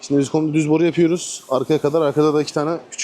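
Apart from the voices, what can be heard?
No everyday noise stands out behind the speech.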